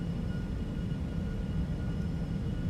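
In X-Plane 12, airliner engines roar as a steady, moderately loud broadband rumble during a rolling takeoff, a continuous sound with no pauses or voices.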